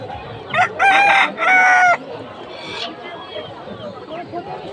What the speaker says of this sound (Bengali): একদম দেশি মুরগি আছে, দেখেন আমরা।